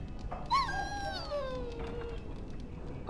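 A dog in Dragon Age Origins lets out a single drawn-out, falling whimper-howl near the start, then goes quiet over a faint game ambience.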